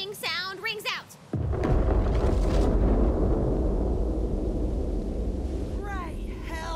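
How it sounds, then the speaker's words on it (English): A great booming sound rings out in the video game Tiny Tina's Wonderlands, a sudden deep explosion that follows a voice and rumbles loudly for several seconds, with speech returning faintly near the end. "a great big booming sound rings out"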